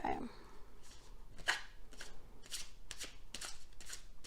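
Tarot cards being shuffled in repeated soft riffling bursts, close and fairly quiet, with a faint breathy sound at the start.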